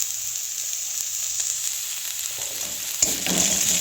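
Ginger sizzling over low heat as it is stirred in a pan for prawn malai curry, a steady close frying hiss with scraping stir noises near the end.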